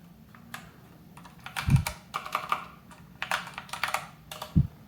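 Clicky bursts of typing on a computer keyboard entering a command, uneven clusters of keystrokes with two heavier thumps, likely the spacebar or enter key, close and alone.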